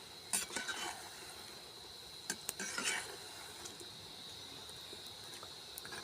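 Sweetened maida biscuits stirred in a pan over a village cooking fire, a faint steady sizzle with a few scattered spoon scrapes and clinks, quiet and close, a high insect-like hum running underneath.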